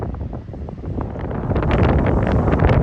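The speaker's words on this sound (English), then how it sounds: "It's a bit windy, guys." Steady wind buffeting and rumbling across the microphone outdoors on the Isle of Man, growing stronger and louder toward the end, with no voices.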